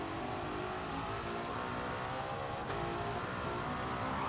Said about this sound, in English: This car sounds way different.